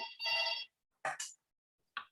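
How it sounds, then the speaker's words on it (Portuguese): A telephone rings in short, bright electronic bursts: one longer ring, then a quick double chirp, then a brief final one. Fairly quiet, with silence between rings and no talking. "eu vou precisar atender o telefone aqui"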